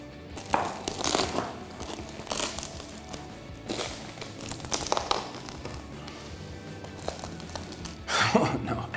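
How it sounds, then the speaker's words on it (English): A knife cutting through a slice of crispy potato pizza, with crunchy crackling and tearing bursts in several separate strokes, close and fairly quiet, with a voice briefly speaking. "I need to cut a slice."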